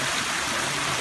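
Water pours steadily down a leaking backyard pond waterfall with exposed liner, a continuous close rushing and splashing that stays even and alone, with no voices.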